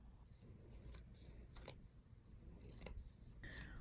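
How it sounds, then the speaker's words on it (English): Scissors snip through a T-shirt, cutting fringe slits from the hem, in about five quiet, separate, crisp cuts at an uneven pace, close by with no talk. "Grab your scissors and cut slits from the bottom of your shirt"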